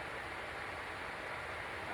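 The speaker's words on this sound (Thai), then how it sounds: "เสียงน้ำตกอาจจะดังไปหน่อยนะครับ ผมขออภัยด้วยนะครับ" Waterfall beside a forest stream at a campsite, a faint, even hiss of rushing water running steadily throughout with no talking.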